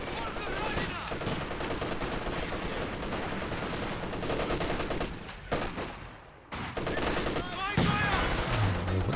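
Sustained machine gun and rifle fire from a Company of Heroes 2 battle, dense overlapping bursts with a brief lull near the end, sitting under a commentator's voice.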